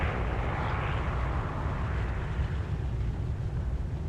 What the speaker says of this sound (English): Actually managed to land a B-29